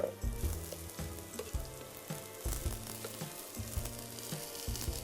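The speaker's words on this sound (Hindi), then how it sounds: "ऑयल हो गया गरम, प्याज हो गई चॉप। अब ये जाएगा सारा का सारा प्याज इस ऑयल में।" Chopped onion dropped into hot oil for millet cooking, frying with a lively crackling sizzle and some stirring scrapes, heard up close and alone.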